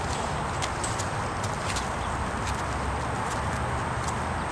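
A four-year-old quarter horse under saddle in retraining, ridden in a snaffle, walks with steady, soft clip-clop hoofbeats close by against a constant broadband background noise.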